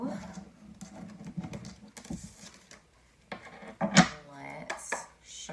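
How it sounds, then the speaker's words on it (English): Tarot cards being shuffled, a run of soft irregular riffles and taps on a table with brief louder snaps, close and fairly quiet, with a voice talking in between. "let's shuffle this some more."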